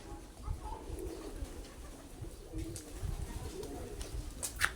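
Pigeons or doves coo softly around a feeding spot at a fish sanctuary in Yasothon, Thailand, low repeated calls over faint ambient murmur and occasional chirps.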